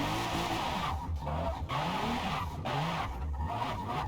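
A Toyota Supra drifts on the Suzuka East course in the video game Forza Motorsport, its engine droning while the tires squeal and skid in long, wavering bursts with no talking.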